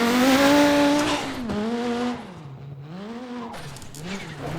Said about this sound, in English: I love the sound of this thing wheel spinning in third gear